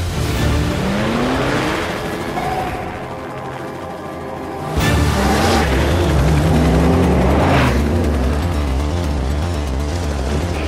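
A Porsche 997 GT2's 3.6-liter twin-turbo six-cylinder boxer engine drones steadily, dipping briefly before revving back up loudly with rising pitch sweeps as it accelerates, close and continuous.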